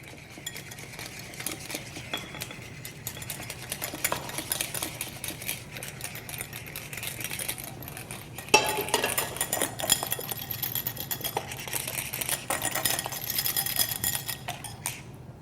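A utensil stirs hot liquid into an egg yolk and sugar mixture in a bowl, giving a continuous rapid scraping and ticking that grows slightly louder and busier halfway through.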